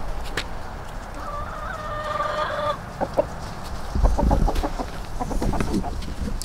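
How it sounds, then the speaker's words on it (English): Chickens cluck nearby, one drawn-out crowing call followed by a burst of short, rapid clucks against an outdoor background. "I'm gonna let these chickens out."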